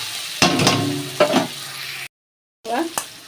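Sugar and salt fry in a pan with intermittent stirring scrapes and sizzling bursts, several short close strokes separated by quieter gaps and a brief silent break, with no voices.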